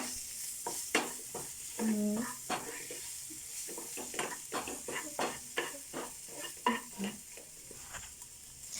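A utensil repeatedly scrapes and clinks against a pan while spicy egg macaroni pasta is stirred over a soft sizzle, in a quiet kitchen with a brief faint voice.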